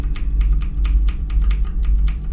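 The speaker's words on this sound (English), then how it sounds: "I'm clicking all over the place." Fast, fairly regular mouse clicks in a quick burst during the horror game Granny, crisp and close over a heavy low hum.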